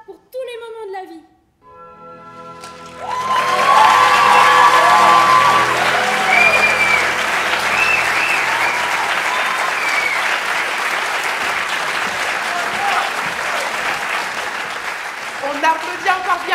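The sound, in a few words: audience cheering and applauding a performing group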